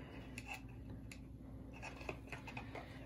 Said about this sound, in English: I take my scissors and I cut off any excess sinew, like that.